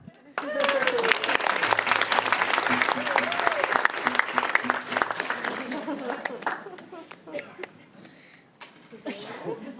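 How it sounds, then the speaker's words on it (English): Audience applause at a conference opening session rises quickly into a dense, steady clapping that holds for several seconds before thinning into scattered claps, with some voices heard over it. "You can applaud."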